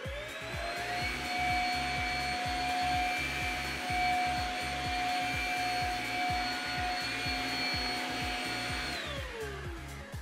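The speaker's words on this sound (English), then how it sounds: "go plug in our Shark vacuum. It has a wattage of 500 watts." A 500-watt Shark vacuum cleaner runs plugged into a portable EcoFlow River 600 power station, a steady loud whine with a rhythmic pulsing hum that cuts off sharply near the end, with no talking.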